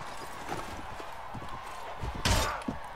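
Hoofbeats of a horse in the medieval combat game Mount&Blade: Warband, a steady clip-clop rhythm under continuous battle noise, with a louder burst of impact near the end.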